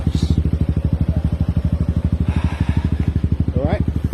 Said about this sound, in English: I'm going to try and ride that bike across.